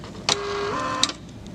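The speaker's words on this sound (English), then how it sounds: "it prints the election date and the precinct name on the top of the ballot for the voter" A ballot printer prints the election date and precinct name across the top of an ExpressVote card, giving a steady mechanical whir with a sharp click at the start and another near the end, roughly a second long, up close.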